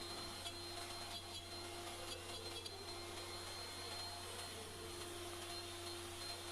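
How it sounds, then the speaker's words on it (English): A router cutting a small hinge groove in a cherry wood box gives a steady, fairly quiet high-pitched whine with a constant hum underneath, unbroken for several seconds and with no voices. "this is just going to route out a small groove for the hinge that I'm going to use"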